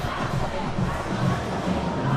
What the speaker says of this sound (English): Nice crowd on hand here at Johnny Unitas Stadium for this battle of Greater Baltimore